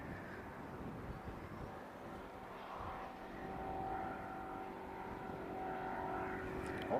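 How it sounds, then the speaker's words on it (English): Pipistrel Alpha Trainer light aircraft at Christchurch Airport, a steady engine and propeller drone heard at a distance that swells slightly louder toward the end, with no talking. "Pipistrel Alpha Trainer."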